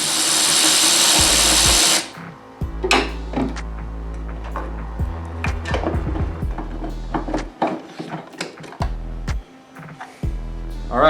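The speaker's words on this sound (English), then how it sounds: "little tiny impact gun to be able to pull your nuts off of there and then remove the engine cover" A small impact gun buzzes loudly for about two seconds, pulling nuts off the engine cover of a 2021 Ford Mustang, followed by close clanks, clicks and rattles of parts being handled.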